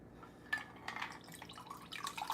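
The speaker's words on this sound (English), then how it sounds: "Let's pour." Whisky is poured into a glass, giving faint liquid splashes and drips in short bursts, close and quiet.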